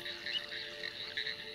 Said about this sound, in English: Very rich with the slender tree frogs around here, because of the type of reed that we're close to.